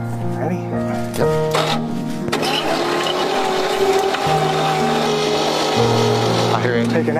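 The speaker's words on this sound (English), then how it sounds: "That thing should definitely turn over with the starter." The old engine of a 1957 Chevrolet Viking truck cranks over on a new starter, a labored rhythmic churning in several pushes with a catching tone, while people talk nearby.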